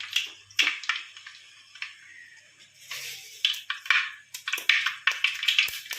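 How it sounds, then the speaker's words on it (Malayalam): Mustard seeds tossed into hot oil in a pan while making a Kerala dry shark fish pickle, giving bursts of sharp crackling and popping that come and go in irregular clusters, close and fairly loud. "ഇനി അതിലേക്ക് നമുക്ക് കടുകിട്ട് കൊടുക്കാം"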